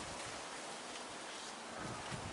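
Wind blows through a UK vegetable garden with staked plants, making a faint, steady broadband rush with gentle gusts and no voices.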